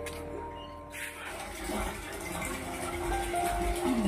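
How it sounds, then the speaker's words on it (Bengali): A rooftop water tank filling steadily, a continuous rushing and splashing of water flowing in, close and fairly loud, with a faint steady tone in the background. "এই যে ট্যাঙ্কি এখন জল ভরছে"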